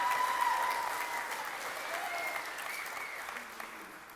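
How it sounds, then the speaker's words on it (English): An audience at an FFA banquet applauds in a steady, moderately distant wash of clapping, with a voice speaking briefly over it at the start. "oh, applaud for that young man."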